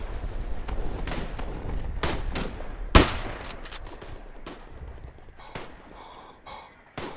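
Artillery fire support lands during a World War I battle in the game Tannenberg: a string of heavy booms and crashing blasts, loudest near the middle, then fading into scattered distant thuds and rumbles.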